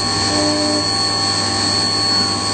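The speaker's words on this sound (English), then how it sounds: "Machining the two flat areas here in this first operation." A CNC mill cuts the two flat areas on a metal transmitter balancer part, giving a steady, loud machining drone with a constant whine and no pauses or voices throughout.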